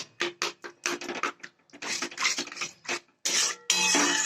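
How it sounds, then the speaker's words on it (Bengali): A utensil stirs milk into white sauce in a pan for broccoli pasta, making quick, repeated scraping and rubbing strokes close by in uneven bursts, ending in a louder, steadier scrape, with no talking. "এটা দুধ দিতে হবে অল্প অল্প করে এবং অনবরত এটাকে নাড়তে হবে"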